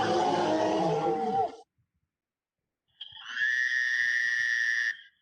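A dinosaur growl sound effect from an editing program's built-in audio library gives a loud, rough roar with a falling pitch that cuts off abruptly. After a pause, a separate steady, shrill trilling sound follows.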